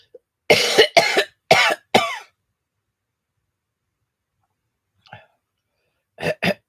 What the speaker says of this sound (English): Sometimes rattling so hard with this cough